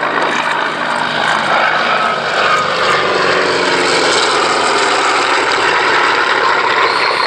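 A Grumman Martlet propeller fighter flies past at the Shuttleworth Fly Navy airshow, its engine drone loud and continuous, with the pitch sliding slowly downward as it passes and recedes.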